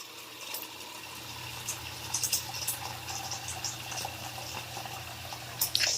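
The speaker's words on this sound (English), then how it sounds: "This bowl right here, I'm going to fill it up with water." Water runs from a tap into a bowl in a steady, gentle stream, with faint splashes and clinks over a low background hum.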